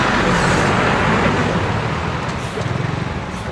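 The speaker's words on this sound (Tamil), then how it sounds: "கோயிலோட டிராஃபிக் தான் நினைக்கிறேன்" Steady wash of road traffic near a busy Hindu temple during a consecration festival in Malaysia, engines and tyre noise blending into a continuous roadside rumble with a faint passing vehicle toward the end.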